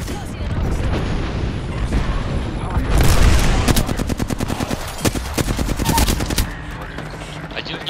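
Rapid bursts of gunfire from the video game Apex Legends crackle over a noisy background, with a dense run of fast shots in the middle, while a voice talks underneath.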